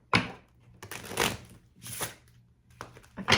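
Playing cards riffled and shuffled in several quick bursts, close and fairly quiet, with short pauses between the runs and no talking.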